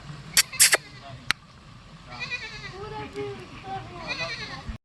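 Barbari goats bleat repeatedly amid a busy outdoor crowd at a village goat market in Punjab, with voices talking and a few sharp clicks near the start.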